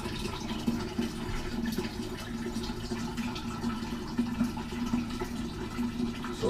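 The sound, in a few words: water poured in to make kombucha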